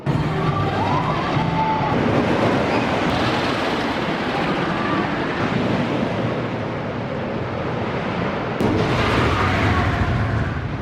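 Apocalypse, a wooden roller coaster at Six Flags Magic Mountain, heard as a continuous loud roar of wind and rumbling track noise from onboard, with a brief clatter near the end.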